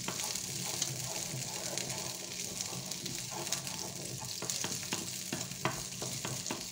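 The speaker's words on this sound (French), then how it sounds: "Alors, je mets un peu ma viande à revenir." Precooked beef pieces browning in a pan for boeuf bourguignon, a steady close sizzle with frequent stirring clicks and scrapes of a utensil against the pan.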